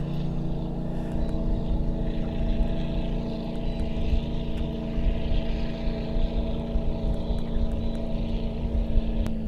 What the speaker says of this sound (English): Turn the motor on, set my speed.